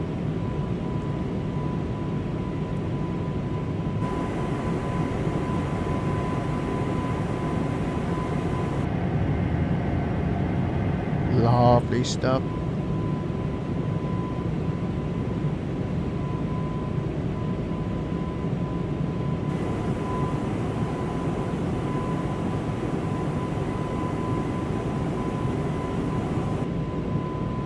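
Airbus A220 cockpit in Microsoft Flight Simulator during an airline flight from Riga to Helsinki: a constant engine and airflow roar with a faint steady tone, a brief burst of clicks midway, and one short spoken remark.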